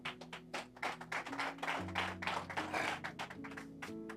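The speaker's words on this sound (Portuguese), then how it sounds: "Dá um aplauso ao Senhor." A church congregation applauding during a sermon, a dense stretch of overlapping claps held steady for several seconds with sustained musical tones underneath.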